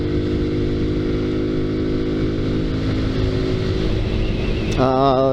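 A new 2019 Kawasaki Z125 motorcycle being ridden, its small engine droning steadily and loudly throughout, then rising into a wavering rev near the end.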